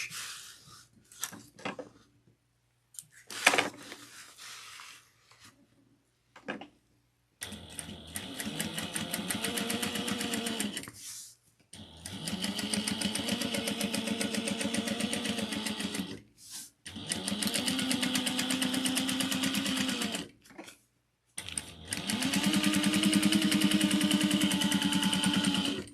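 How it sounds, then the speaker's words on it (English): A sewing machine top stitches a seam at an eighth of an inch, starting after a few quiet handling clicks and then running in four long, steady whirring bursts with short pauses between them. "you're going to top stitch with the seam allowance going towards this at 1/8 of an inch"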